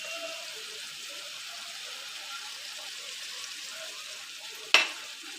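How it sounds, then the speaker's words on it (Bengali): Spice paste of garlic, ginger and green chilli with tomato, turmeric and Kashmiri chilli powder sizzles quietly and steadily in a pan, ending with one sharp clink of a utensil near the end. "কাশ্মীরি লঙ্কার গুঁড়ো সব দিয়ে আমি ভালো করে কষিয়ে নেব"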